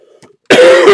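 A single loud, close cough bursts out after a brief quiet moment.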